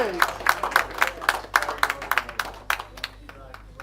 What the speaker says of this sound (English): Please give a round of applause for Ken Salim for a tremendous fight.